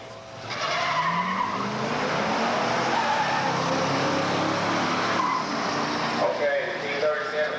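An Oldsmobile 442 W30 and a Pontiac T37 455 High Output launch side by side at a drag strip, a loud sustained roar of both engines with screeching tires, rising in pitch through the gears and holding strong throughout.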